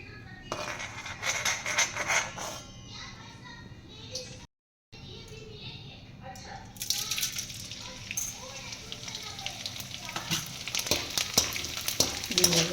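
Edible gum frying in hot ghee for the Gujarati winter sweet adadiya, with a crackling sizzle that dips briefly to silence and then swells louder and busier, while voices talk in the background.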